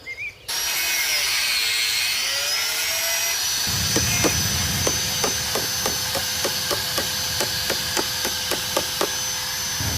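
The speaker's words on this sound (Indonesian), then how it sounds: "Sekarang cuma suara mesin sama palu bangunan yang bikin kuping panas." A loud, steady construction machine drone fills the air in a village, then regular sharp building hammer strikes ring out in an even rhythm over it.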